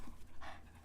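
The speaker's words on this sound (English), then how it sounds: "the heavy panting is not me. It is, I promise you it's a dog" Rapid, breathy dog panting, fairly close and steady, with a brief louder burst of breaths midway and no voices.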